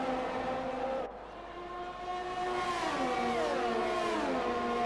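Several F1 race cars battle wheel to wheel in the F1 2020 racing game, two Ferraris and a Williams, their high engines whining loud and close with pitch sweeps and overlapping revs as they shift and pass.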